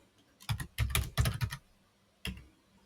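Keystrokes on a computer keyboard while entering code, tapping out in three quick clustered bursts and then one last isolated press, close and clear with no voices.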